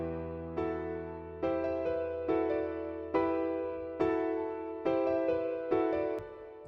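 Piano chords in an FL Studio trap beat strike about seven times at a steady, moderate pace, each one ringing full and then fading before the next. The sound is close and clear, with no voices.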